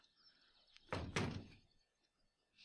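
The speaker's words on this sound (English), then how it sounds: "She slammed the door loudly." A door slams shut in the video game Everlasting Summer: a loud, close wooden thud with a heavy double impact that quickly fades, set against a quiet ambient background.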